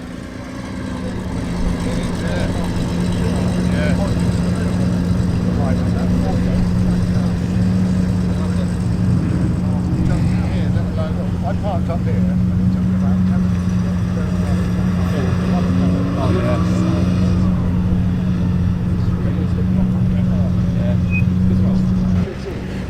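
Porsche 911T engine running at a car show, a steady droning hum with a strong low tone, held close and continuous for the whole stretch, with faint background voices mixed in.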